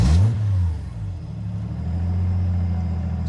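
A Mazda FC RX7 with a 1JZ engine, built as a drift car, starts from a switch panel: a loud burst at ignition settles into a steady, low, rumbling idle close by.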